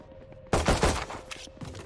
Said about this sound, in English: Looks more like they're gunfire being exchanged over here